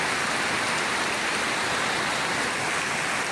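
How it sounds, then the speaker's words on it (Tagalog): Heavy rain pours outside a house, a dense, unbroken hiss of water striking surfaces that stays loud and even throughout with no voices. "Dito sa bahay tayo nung umulan. Oh, lakas oh."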